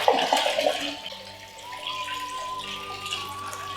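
Water pours from a tap into a pot for brewing mead outdoors, a steady splashing rush that starts loud and settles into a continuous filling sound with a rising tone as the pot fills.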